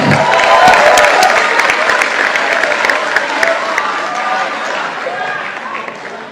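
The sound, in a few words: audience applause welcoming the new party chairman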